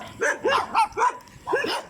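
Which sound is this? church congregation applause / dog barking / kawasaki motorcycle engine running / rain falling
dog barking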